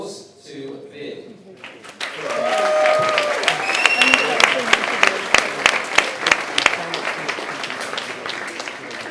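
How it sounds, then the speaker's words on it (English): Crowd applause at a Growth Hacking 2018 conference swells in after a brief voice, becoming a dense, sustained clapping with a few whoops and voices mixed in, fairly close and loud. "please give a round of applause to Vin."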